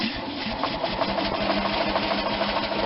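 An RV engine idles with a fast, even mechanical chatter, running steadily and close by throughout with no talk.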